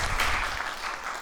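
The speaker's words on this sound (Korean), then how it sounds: "박수 한번 쳐주세요" A Korean church congregation claps in response to the pastor during a Sunday sermon, a short burst of group applause that fades quickly.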